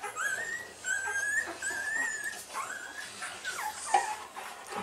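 A Rottweiler close by whimpers and whines in thin, high drawn-out cries, with a few short yips and soft sniffing in between.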